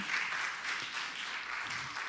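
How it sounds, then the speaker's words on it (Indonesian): A church audience applauds a praise and worship team with dense, steady clapping that continues evenly throughout, heard from a slight distance. "kita berikan tepuk tangan"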